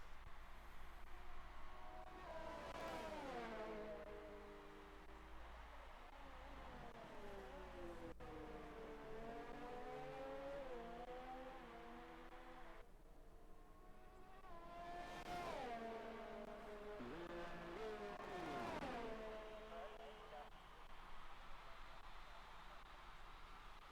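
A McLaren Formula 1 car in an esports race at the Bahrain Grand Prix, heard onboard: the engine screams up through the gears, drops on downshifts, then climbs again in repeated sweeping cycles, close and steady, with no talking.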